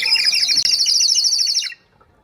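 A water-filled bird whistle toy bought at a Rajasthan roadside stall warbles loudly in rapid bubbling trills for under two seconds, then stops abruptly into near silence.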